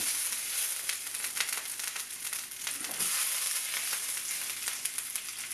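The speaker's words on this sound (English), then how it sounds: "And then we're going to bake these effectively in here, fry them, bake them." Yaki onigiri rice balls frying in a pan, a steady, even sizzle and crackle throughout with faint scraping and a soft knock partway, no talking.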